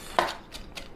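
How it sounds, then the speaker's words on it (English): Green beans chopped with a knife on a cutting board for a Sichuan sauce, one sharp near cut followed by two softer cuts in about a second, with no talking. "I really love chopping those beans"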